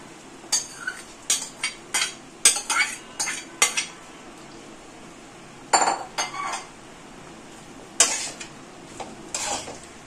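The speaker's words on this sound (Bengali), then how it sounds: "আমরা এইভাবে একটু একটু করে পুরো রাইসটা মিশিয়ে নেব।" Rice for a Mughlai-style zafrani pulao being mixed in a pot with a utensil, giving repeated scraping and clinking strokes in short bursts, fairly close, with no talking.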